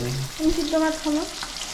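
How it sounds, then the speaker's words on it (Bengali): Fish fries in a pan at home, a close, steady sizzle with a brief voice sounding over it. "আর এখানে দেখো মাছের ভাজা হচ্ছে আমাদের জন্য।"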